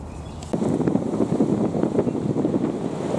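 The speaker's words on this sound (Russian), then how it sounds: "Какой сильный ветрюган! С ног сдувает." Strong cold wind gusts roar against the microphone on a shore with high waves, a dense continuous rushing that surges in suddenly after a quieter start and stays loud throughout.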